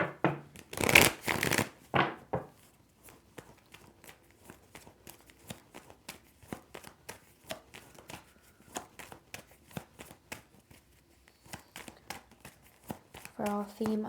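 Tarot cards shuffled by hand at a reading table: a loud riffle burst at the start, then a long run of soft, quick card flicks and slides, close and intimate, with occasional talk.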